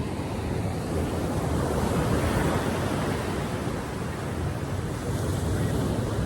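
Sea waves at Ciwidey beach in South Cianjur roll in as a continuous loud wash of surf, a broad steady roar with wind buffeting the microphone throughout and no voices.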